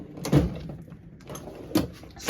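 A drawer in a garage tool chest rolls open and shut, a few short sliding clunks and rattles close up, with quiet pauses between them.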